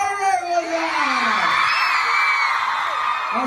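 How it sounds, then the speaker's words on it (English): A crowd lets out a rising, sustained scream and whoop, loud and blended, swelling and holding for a few seconds. "That scream was for you, man."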